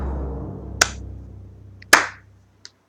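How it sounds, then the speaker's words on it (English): A single person claps a few sparse times at a festival, sharp isolated slaps spaced out over a low steady hum of background noise, with no voices. "One singular person clapping."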